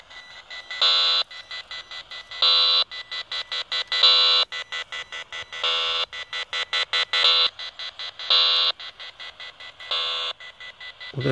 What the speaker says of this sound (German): Jetzt hört man schon dieses piepsende Geräusch, dieses Piep, Piep, Piep.